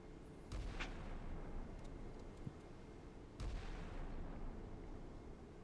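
Naval gun salvo fire in the Sea Power missile-age combat game, New Zealand Navy ship: two muffled distant booms a few seconds apart over a steady low rumble of background noise.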